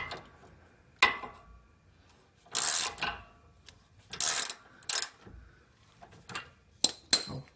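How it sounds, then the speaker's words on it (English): A hand ratchet tightening track bar bolts on a 1996 Jeep, bursts of rapid clicking pawl strokes in several separate runs, close and fairly loud with quiet gaps between. "all I need to do is take my ratchet"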